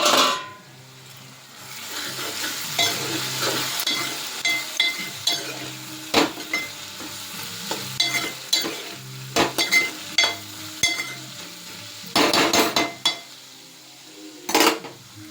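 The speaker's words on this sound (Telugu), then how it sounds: "ఒకసారి ఉల్లిపాయలు కలుపుదాం." Chopped onions sizzling in a hot frying pan while a metal spoon stirs them, with repeated sharp clinks and scrapes of utensil on pan over a steady frying hiss, close up and without talk.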